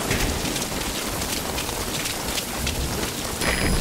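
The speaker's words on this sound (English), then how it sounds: "That rain just won't let up." Heavy rain pours in a video game, a loud, dense, continuous hiss close up with no voices over it.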